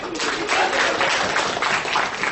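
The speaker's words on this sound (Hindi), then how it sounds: "तालियां बजा सकते हैं।" Audience in a room applauding together, a steady dense wash of clapping lasting the whole moment, fairly loud and close.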